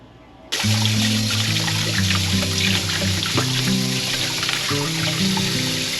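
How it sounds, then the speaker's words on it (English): Parsnips rinsed under running water in a colander, a steady close splashing stream that starts abruptly and continues throughout, with music playing underneath. "I'm gonna give them a good rinse in this colander though, before we peel them"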